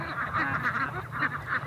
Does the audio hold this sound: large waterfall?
no